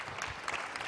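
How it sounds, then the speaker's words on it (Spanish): Dense, steady applause from a church congregation fills the space, loud and continuous with no voices on top. "Fuerte ese aplauso al Señor."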